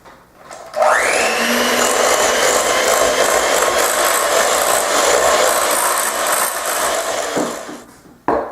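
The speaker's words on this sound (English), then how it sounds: "Put this in with our mixture, and then we're going to start beating it." An electric mixer beats a blue cheese dressing mixture. It starts at about one second with a loud, steady whir and holds at full strength for several seconds. It stops abruptly near the end, and no voice is heard.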